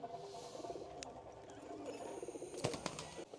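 A Lalsara pigeon coos softly with low, rolling murmurs, faint and close, mixed with a few sharp clicks and rustles in a quiet loft.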